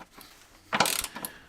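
A ratchet wrench tightens bolts on the rear subframe mounting pads of a BMW MINI R50/R52/R53 during subframe refitting, heard as one short burst of rapid clicking, fairly close and alone.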